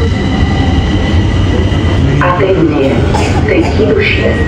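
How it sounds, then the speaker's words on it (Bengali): A train in Bucharest, Romania rumbles loudly and steadily with rhythmic wheel noise, and squealing metallic tones rise toward the end. "এটা একটা ট্রেন"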